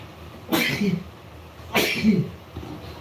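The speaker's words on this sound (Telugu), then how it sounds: "వెనకాల మా ఆయన తుమ్ముతున్నాడు" A man with a cold sneezes twice, about a second apart, each a sharp close burst followed by a brief throaty trail, with quiet room tone between.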